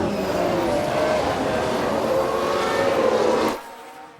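Racing cars in the F1 Manager 22 video game, set in the 1995 season, give a continuous engine drone with a passing whoosh that fades out sharply near the end. No one speaks.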